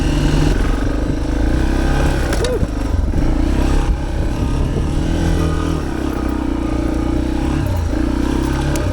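Motorcycle engine started cold at a mountain camp and left running, with a loud, steady close idle rumble that continues throughout.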